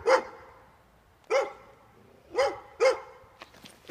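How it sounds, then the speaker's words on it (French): Little dogs bark in four sharp, separate yaps spaced about a second apart, close and clear over quiet, with a faint scuffle after the last. "Ou alors ces mignons petits chiens."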